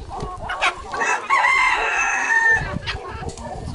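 Chickens cluck while a rooster crows in a long, strained call near the middle, close and fairly loud, on a permaculture property in New Zealand where the poultry live in the house.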